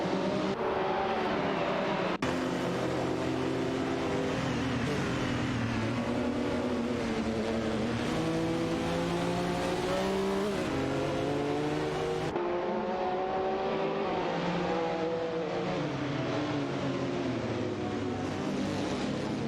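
Racing car engines roar in the Live for Speed sim, including a Ferrari GT and other cars, with layered high revving tones rising and falling as they pass and shift gears.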